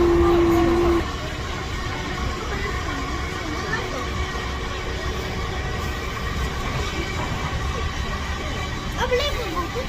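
Rumble and rattle of a London Underground train running through a tunnel, steady and fairly loud throughout, with a brief tone near the start and faint crowd murmur under the noise.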